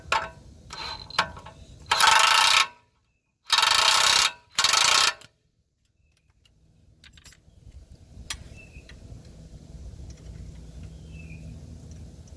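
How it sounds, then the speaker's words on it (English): A ratchet tightens a 24 mm castle nut on a Toyota 4Runner front lower control arm in bursts of rapid clicking separated by pauses, followed by quieter metallic taps and a faint ambient hum. "Now we can tighten down or torque down the castle nut"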